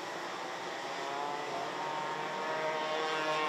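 A Senior Max racing kart with no baffles in its exhaust at a race final in Genk, heard as a raspy, buzzing two-stroke engine note that holds steady and slowly grows louder, with no voices.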